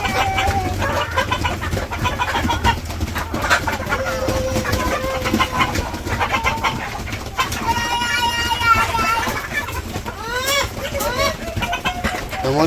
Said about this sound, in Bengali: মুরগি খাইতেছে।